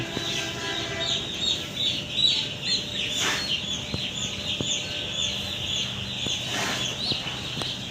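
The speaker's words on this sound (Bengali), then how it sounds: "মুরগি এখানে দিয়ে দিচ্ছি" Six-day-old poultry farm chicks cluck and chirp in a busy brooding area, huddled against cold weather, with soft overlapping calls and a few sharper squawks over a low background hum.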